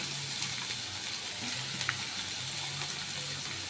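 Onions frying in a pan for puffed-rice upma, a soft steady sizzle with low hiss and a faint tick or two, fairly quiet and continuous without talk.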